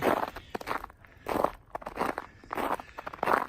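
Footsteps crunch on a slightly crunchy surface during a walk out to get the mail, coming in several uneven bursts of close, scuffing steps with short pauses between them.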